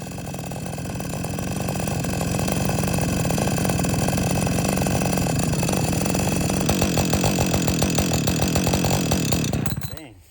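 A Husqvarna 562XP chainsaw engine idles steadily and loudly nearby with a rough, slightly uneven rumble, then cuts out abruptly near the end.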